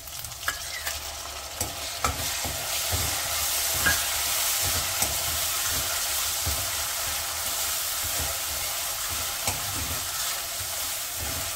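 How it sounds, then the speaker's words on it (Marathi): Tomatoes fry in a pan with mustard and cumin seeds for dal bati: a loud, steady, close sizzle with scattered light scrapes and taps from stirring, and no voices. "टोमॅटो हे आपण इथे छानसा फ्राय करून घेणार आहोत."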